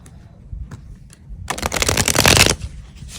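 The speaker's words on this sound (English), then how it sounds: "These cards do not shuffle that well." A few light taps, then a quick burst of tarot cards riffling together in a crisp flutter lasting about a second.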